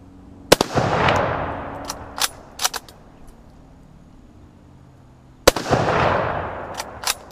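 A sporterized Mosin Nagant Type 53 rifle fires two loud, close shots about five seconds apart, each with a sharp crack and a long rolling echo, followed by short metallic clicks of bolt handling.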